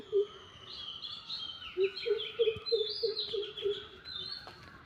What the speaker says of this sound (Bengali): পাখির ডাক আপনাদেরকে একটু শোনানোর জন্য আমি ভিডিওটা করতেছি।